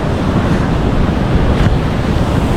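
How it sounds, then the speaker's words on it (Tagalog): Strong Pacific surf pounding the shore at a beach in Casiguran, Aurora: a continuous loud roar of crashing waves with wind buffeting the microphone, and no pause in the wash. "Lakas ng agos ng dagat."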